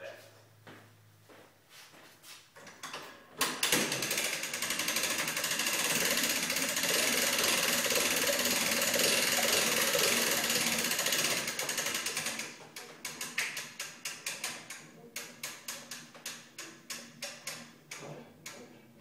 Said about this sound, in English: present to you the John Deere trailer lift.